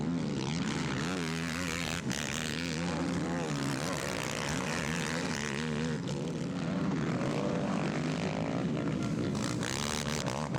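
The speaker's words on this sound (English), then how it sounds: "but Joel Hedrick is just an absolute beast on this Phoenix racing machine" A Phoenix racing ATV's engine buzzes and revs at an ATVMX national series motocross race on a sandy track, a continuous, raspy drone that rises and falls in pitch as the machine charges along.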